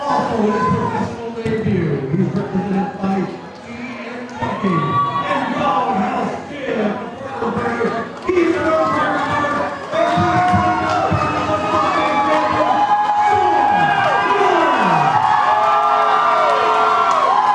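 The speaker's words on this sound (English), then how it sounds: "getting the crowd fired up tonight" Crowd at a local boxing event cheering and whooping between rounds as a ring girl works the room, loud and continuous with shouted voices and rising yells, an announcer's voice running through it.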